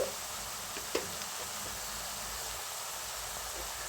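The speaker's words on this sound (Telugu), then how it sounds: "పచ్చి వాసన పోయేంత వరకు అండి ఫ్రై చేసుకోవాలి" Ginger-garlic paste frying with onions in a pan for chicken liver fry, with a faint, steady hiss of sizzling oil and a couple of light stirring knocks, with no talk.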